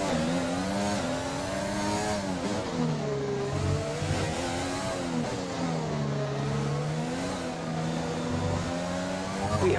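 Formula 1 race car engine in the F1 2020 racing game, a loud continuous high-pitched whine rising and falling with gear shifts and revs throughout, with no talking.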